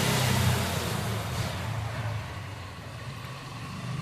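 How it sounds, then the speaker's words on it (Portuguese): A motorcycle engine passes by at a moderate distance, a broad steady roar that peaks early and slowly fades, with no talk. "Moto."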